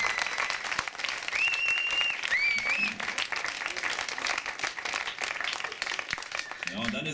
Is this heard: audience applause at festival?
yes